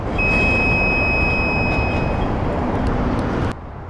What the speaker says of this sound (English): So now we just have to wait for it to beep.